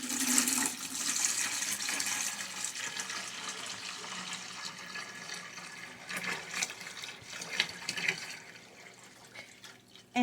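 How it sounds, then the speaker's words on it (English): A gallon of water pours into a pot for cooking collard greens, a steady splashing gush that runs for several seconds and then tapers off into trickles and drips. "Let's go ahead and add 1 gallon of water."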